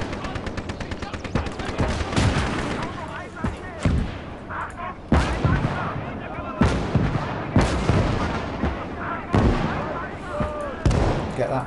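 Flak gun firing in a WWII Atlantic Wall battle game: loud, rapid bursts of heavy gunfire in repeated salvos, with sharp blasts standing out and overlapping, while a voice talks over the din.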